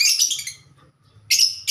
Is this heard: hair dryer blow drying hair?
no